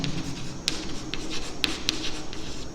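A marker or chalk squeaks and scratches across a board in short, separate strokes with small sharp taps between them, close and fairly clear, with no talking over it.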